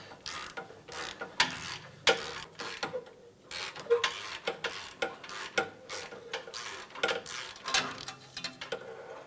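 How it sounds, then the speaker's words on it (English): A ratchet turns a 12 mm socket on long extensions and a swivel to spin off a catalytic converter nut on a 2009-2015 Honda Pilot, giving sharp, rapid clicking bursts in an uneven rhythm, close and clear, with no talk. "we have a couple long extensions going up with a swivel and a 12 millimeter socket"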